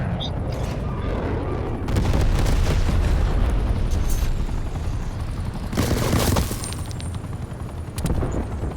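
Napalm strike in a video game, a loud rumbling barrage of explosions and crackling bursts that swells in several waves, with a voice talking over parts of it.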